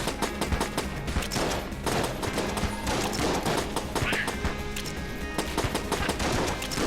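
Rapid bursts of gunfire from the hegemony rifle in the Enter the Gungeon video game, dense repeated shots rattling steadily over game music for several seconds.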